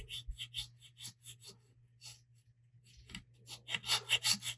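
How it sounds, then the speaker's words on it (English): A burnishing tool rubs a decal onto a fishing rod in short, repeated back-and-forth scrubbing strokes, quiet and close, with a brief lull before the rubbing grows denser and louder. "you just come back with the burnishing tool"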